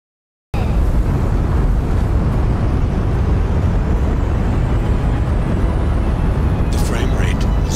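The largest stock rocket in Kerbal Space Program 2 launching, a loud, dense, continuous roar starting abruptly and holding steady with a rushing, wind-like texture.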